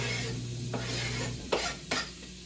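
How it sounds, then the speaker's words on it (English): Onions and tomato go into melted butter in a pan, giving a steady sizzle and hum with a couple of short scraping, clinking stirs near the end. "now I'm going to be adding some onions and some tomato"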